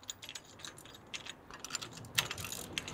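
A ratchet wrench clicks in quick bursts while tightening a bolt on a DIY car camera rig, its sharp close ratcheting ticks coming in uneven runs with brief pauses.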